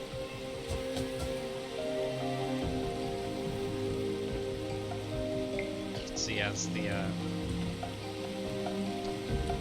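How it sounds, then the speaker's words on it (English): Rainstorm in the video game The Universim, a steady hiss of rain on surfaces with scattered drops and a low game music bed, while someone talks over it. "That helpful rainstorm did it for me."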